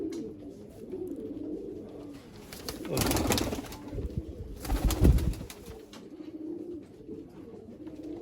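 Several aged male pigeons cooing inside a pigeon loft, soft low murmuring coos running throughout with two louder bursts of rustling or wing noise near the middle.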